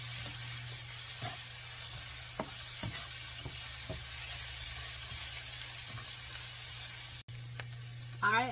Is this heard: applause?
no